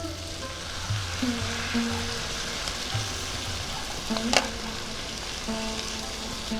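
Gobindobhog rice being fried with spices in a pan for khichuri, a steady faint sizzle with occasional scraping stirs and a sharp clink near the end, no talking.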